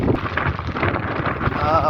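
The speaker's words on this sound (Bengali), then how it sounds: "বাতাস, কথা বলার মতো অবস্থা নাই।" Strong storm wind buffeting the microphone in a loud continuous roar during a rough outdoor trip, with a voice speaking under it.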